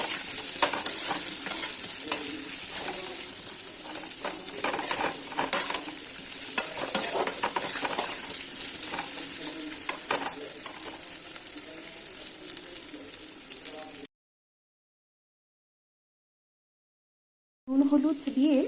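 Taro and hilsa fish frying in a pan while being stirred, with a loud, steady close sizzle and repeated scraping strokes. The sound cuts to silence for a few seconds, then the sizzling briefly resumes.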